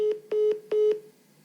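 Telephone call tones in a Ukrainian phone call, three evenly spaced, steady electronic beeps, clear and alone.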